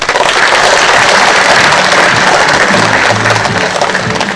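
Loud, continuous audience applause at a ceremony, dense clapping filling the whole few seconds, with faint voices beneath.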